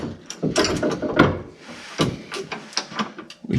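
A ratchet drives a bolt while a spacer bracket is fitted during a QA1 front coilover install on a third-generation suspension, giving a few loose bursts of clicking and metallic clatter with short pauses between them, close to the microphone.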